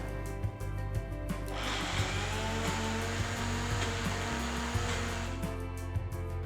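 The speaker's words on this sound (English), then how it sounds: "Now we have to grind everything together." A mixer grinder whirs loudly and continuously as it grinds kala chana dosa batter, with a steady motor drone and small knocks from the jar.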